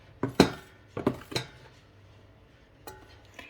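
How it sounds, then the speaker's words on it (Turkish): A metal utensil scrapes and knocks against a bowl while flour is mixed into pizza dough with instant yeast, in a few quick clustered strikes and clatters, then a lone light clink near the end, close and fairly quiet, with no talking. "Ele yapışmayan bir hamur oluncaya kadar un ilave edip karıştıracağım"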